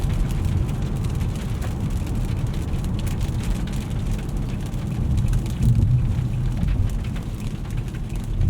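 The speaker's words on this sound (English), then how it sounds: "it's raining right now" Steady rain drums on a 2021 Nissan Altima SR VC-Turbo driving at night, a dense continuous patter over low road rumble, fairly loud and even throughout with no talking.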